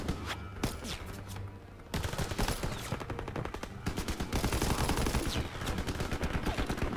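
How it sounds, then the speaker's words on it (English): Machine gun fire in Call of Duty: WWII, loud sustained bursts of rapid shots with brief pauses between volleys, fairly close and dominating the scene. "It must just be like an MG or something."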